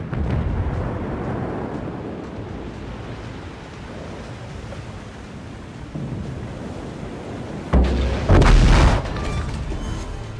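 An enemy cruiser exploding in World of Warships, a heavy, booming blast that bursts out near the end over a steady rushing wash of sea and wind.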